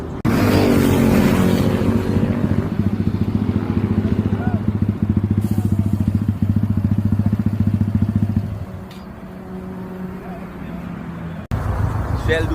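Motorcycles idle close by with a steady low throbbing rumble, gathering at a Shell station before a group ride to Penang. Brief revs rise over the idle before the engines drop to a quieter, rougher idle near the end.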